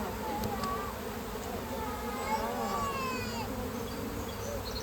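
A small swarm of honey bees buzzes steadily at a teaching apiary, a continuous droning hum with rising and falling tones from individual bees flying close by.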